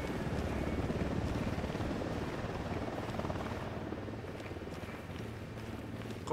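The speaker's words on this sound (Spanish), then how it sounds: "Un helicóptero, abajo." A helicopter in the video game Ghost Recon Wildlands throbs with a dense, steady rotor roar, loud and close, fading slightly toward the end.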